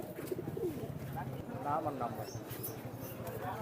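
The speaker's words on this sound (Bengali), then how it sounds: "এই দুইটা হলো টেডি কবুতর" Soft cooing from teddy pigeons at a pigeon market in Khulna murmurs close by, partly buried under steady talking from a nearby voice.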